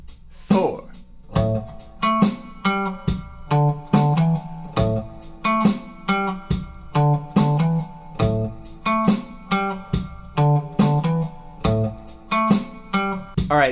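A funky guitar riff played over a drum track at 70 BPM, steady repeating phrases with regular beats, close and clear throughout.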